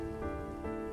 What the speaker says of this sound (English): Again, more rain.